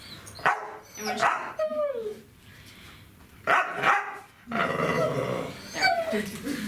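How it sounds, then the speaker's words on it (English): A deaf dog barks on command in a series of sharp, close barks broken by short growls and whimpers, the bursts coming in uneven clusters with brief quiet gaps between them. "So this is bark."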